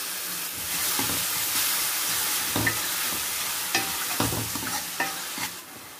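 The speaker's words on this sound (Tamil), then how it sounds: "தக்காளி நல்லா சாஃப்ட் ஆகிற வரையும் இது நல்லா வதங்கணுங்க." Chopped tomatoes sautéing in a pan with ginger garlic paste for a prawn gravy, a continuous sizzle broken by repeated scraping strokes of a spoon stirring, close and fairly loud.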